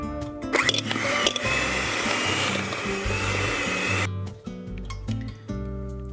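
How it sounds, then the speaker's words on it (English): An electric whisk mixing butter in a bowl, with a loud, steady motor whir and rattling beater noise that cuts out abruptly, followed by softer clatter and a lower hum. "And then we're just going to whisk it with an electric whisk."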